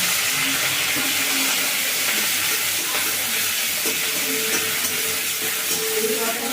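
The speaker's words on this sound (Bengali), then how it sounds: "দু চামচ ঘি দিয়েছি কড়াতে। নিম পাতাগুলো দিয়ে" Neem leaves frying in ghee in a wok, giving a continuous loud broadband hiss and sizzle close by with faint crackles, no voices.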